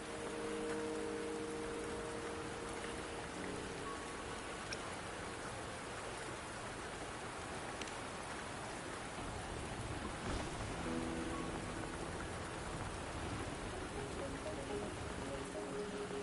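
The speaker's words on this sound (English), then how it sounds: "Don't worry, the rain won't last much longer." Steady rain pours in the Wuthering Waves video game, a dense, even hiss of drops on surfaces lasting throughout, with faint tonal music in the background and no talk.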